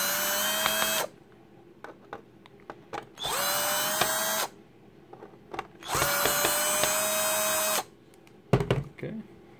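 A power drill fitted with a 3.8 security bit whines in three separate bursts, each a second or two long, unscrewing a retro game cartridge, with small clicks and handling noises in the quiet gaps.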